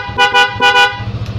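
Horn of a Bajaj Pulsar motorcycle fitted with a police-escort siren gives four short, loud, close honks in quick succession, then a low engine-like rumble underneath.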